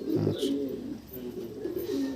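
Black-eyed Andhra pigeons coo in low, throaty murmurs, several overlapping calls rolling steadily from close by.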